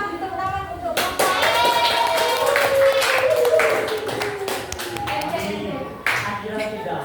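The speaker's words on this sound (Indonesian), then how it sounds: "kita beri tepuk tangan untuk Bapak" Students in a chemistry class clap together for a man at the front of the room. The clapping is lively and scattered, and voices call out and chatter over it throughout.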